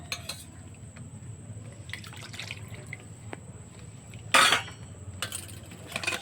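Milk ladled into palm (taal) cake batter, three ladlefuls, giving soft liquid drips and pours with one louder splashing burst near the end, close and fairly quiet over a low room hum.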